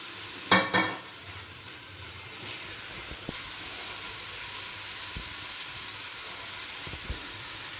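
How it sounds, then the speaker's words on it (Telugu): Tomatoes cooking in a pan with coriander and garlic added for a tomato chutney, giving a steady soft sizzle throughout, opened by a couple of sharp clattering stirs near the start and a few faint scrapes later. "ఇందులో కొంచెం కొత్తిమీర ఇంకా వెల్లుల్లి వేసి ఇది కొద్దిసేపు మగ్గనిద్దాము"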